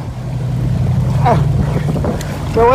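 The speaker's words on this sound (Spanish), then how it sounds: "Me voy a tener que subir a esta lancha yo." A border patrol motorboat drones steadily on open water under wind noise, the engine note holding level with brief voices breaking in faintly.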